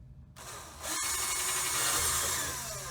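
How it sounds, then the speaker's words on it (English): A power drill bores a hole through a control panel to fit a toggle switch. The steady, loud whirring grinding starts abruptly after a brief quiet moment and runs unbroken to the end. "I drilled a hole big enough for the toggle switch to fit through"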